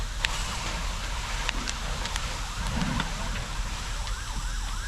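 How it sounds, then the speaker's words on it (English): Emergency vehicle sirens wailing at a large structure fire in Croatia, several rising and falling tones drifting in from a distance over a constant roar of fire and background noise, with scattered knocks and no speech. "Can hear some sirens off in the background, which indicates more trucks and helpers coming."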